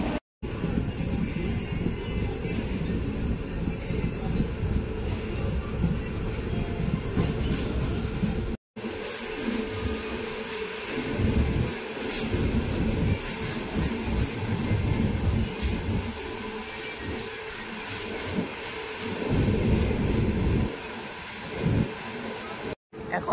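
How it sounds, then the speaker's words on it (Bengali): A passenger train on the Kharagpur–Digha line runs toward Kanthi station, its continuous loud rumble and wheel clatter heard from on board, with brief dropouts and some voices mixed into the steady noise. "কিছুক্ষণের মধ্যেই ট্রেন কাঁথি স্টেশনে প্রবেশ করবে"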